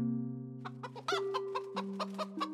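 Chicken clucking in the video game Korea Dynasty, a series of short, close, fairly loud clucks in an irregular rhythm over a steady low game music drone.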